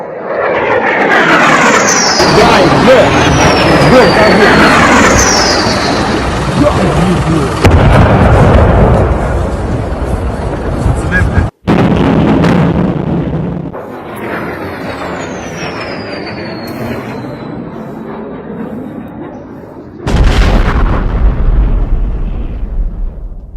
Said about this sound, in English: Overnight, more shelling in Ukraine, including the capital city of Kyiv.